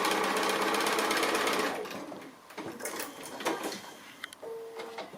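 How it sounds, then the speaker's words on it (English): A sewing machine runs a fast, loud burst of stitching along a straight quarter-inch seam on a pin cushion, then stops. Softer handling and fabric sounds follow. "I thought I'd just stitch that just so that you're sure which bit it is that I'm stitching"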